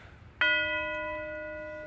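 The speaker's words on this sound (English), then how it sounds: "one way that you can dampen chimes is to let the pedal up" A set of orchestral tubular chimes struck once, ringing out with a bright cluster of sustained overtones that hang on steadily and slowly fade, heard close and alone.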